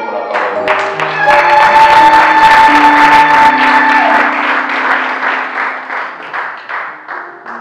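A church congregation bursts into loud, sustained applause that swells quickly and then slowly tapers off, with sustained keyboard or organ tones ringing beneath the clapping.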